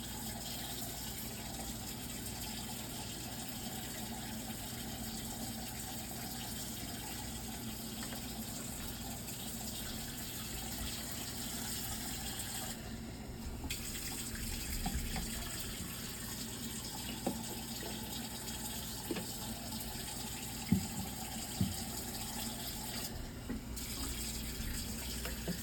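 Water is poured onto the soil of a new crested gecko terrarium, heard as a steady, fairly quiet gushing trickle that runs throughout, with a few light knocks toward the end.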